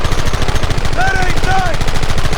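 Dense rapid gunfire from a Red Dead Redemption shootout hammers on without a pause, a loud, rattling stream of shots with brief shouted voices over it.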